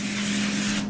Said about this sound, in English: I want to spray this with some oil so that my chicken don't stick.